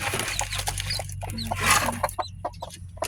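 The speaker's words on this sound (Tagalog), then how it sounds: "Yun maliliit na manok" Small chicks, newly hatched, cheep and cluck repeatedly in a rural farmyard, with several birds calling close by over a steady low background hum.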